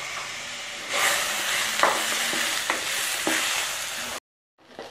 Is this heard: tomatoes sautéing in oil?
yes